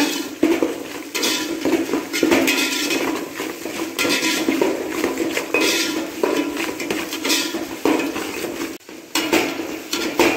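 Onions with a little rock salt are sautéed and stirred in a pan, with a steady run of scraping and clinking of a utensil against the pan and a soft sizzle underneath.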